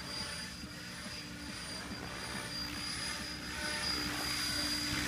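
Helicopter holding a steady hover nearby, a continuous rhythmic rotor chop over a constant engine whine and faint high tones, even in level throughout with no voices.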